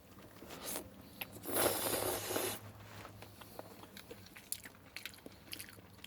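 Close, crisp crunching and chewing of Sriracha chicken flavored ramen noodles, with one louder burst of bites near the middle followed by scattered small crunches and mouth sounds, no talking.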